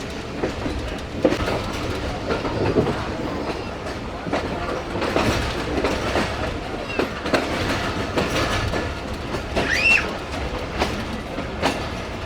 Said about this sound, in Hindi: प्लेटफॉर्म नंबर 5 पर अप्रोच बना रही है जी हमारी ट्रेन